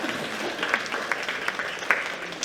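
A round of applause from the audience at an education festival, a dense crackling of many hands clapping steadily with a few louder individual claps standing out, moderately near and unbroken throughout.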